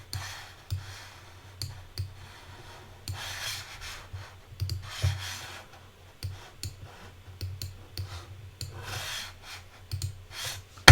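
Drawing a liver diagram by hand: soft pen or marker strokes rubbing across a surface, with intermittent light clicks and ticks over a faint steady hum and no talking.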